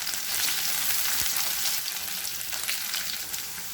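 Curry leaves frying in hot oil for pepper chicken, a continuous close crackling sizzle with no speech.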